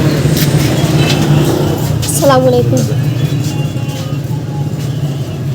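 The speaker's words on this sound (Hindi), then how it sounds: "गाड़ियाँ गुजर भी रही हैं" Vehicles, including tractor trolleys, pass along a congested road with a steady traffic rumble and engine drone, while a man briefly greets someone up close over the noise.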